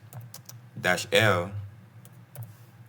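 Light keyboard typing clicks scattered through the clip as Linux commands are entered, with a person talking briefly in the middle.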